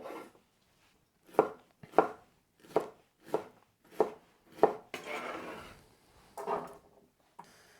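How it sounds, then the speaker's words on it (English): A knife chops a long red pepper into strips and dice on a board. About eight crisp, evenly spaced chops come close and clear, followed by a brief rustle of scraping and a couple more cuts. "So this long red one, I'm just going to cut into long strips and then across to make some dices for the"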